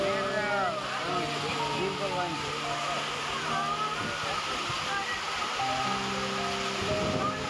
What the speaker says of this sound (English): it started to rain heavily.